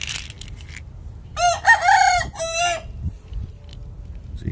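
A fighting rooster crows once loudly and close, a drawn-out multi-part call in the middle of the clip, with low farmyard noise and faint clucking around it.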